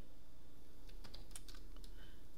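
Fingers type on a computer keyboard, a loose scatter of light clicking keystrokes over a steady background hum, close and moderately loud.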